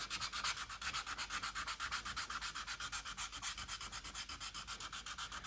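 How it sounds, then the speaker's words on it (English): Hand sandpaper rubbing a carved wooden hooded merganser drake decoy in steady back-and-forth strokes, a close, even, rhythmic scratching with no voices. "I won't make you watch me sand"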